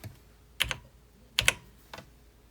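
Typing a command on an old computer keyboard for a Hero Jr robot's monitor program: three short, distinct bursts of key clacks, close and fairly quiet, with no talking.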